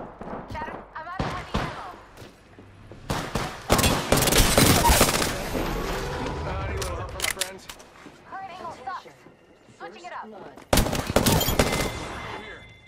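Gunfire in the video game Rainbow Six Siege, sharp close bursts and single cracks scattered through the round, with a long dense volley mid-way and another burst near the end, while players talk between shots.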